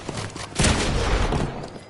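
Gunshots in a Fortnite match, a burst of loud close shots mid-clip blending into continuous battle noise, with no talking.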